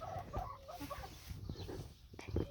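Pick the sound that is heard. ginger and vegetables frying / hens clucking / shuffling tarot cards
hens clucking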